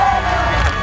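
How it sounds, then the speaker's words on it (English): A crowd cheers and whoops at a CrossFit Games regional competition, brief loud roar with shouting voices and babble, no distinct clapping standing out. "Big round of applause for JB."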